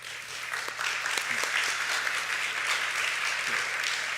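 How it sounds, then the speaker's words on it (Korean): Warm applause from a church congregation during a Sunday worship service welcomes a visiting member, a steady wash of clapping with a faint low hum beneath it. "유성의 뜨거운 박수로 환영해 드리겠습니다"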